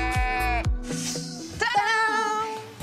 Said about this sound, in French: ces moutons au pied des menhirs de Carnac